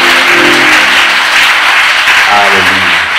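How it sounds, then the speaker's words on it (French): A church congregation claps in a steady, dense wash of applause throughout, while a voice carries on over it in the foreground. "Est-ce que tu peux applaudir pour la gloire de Dieu?"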